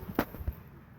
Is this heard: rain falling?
no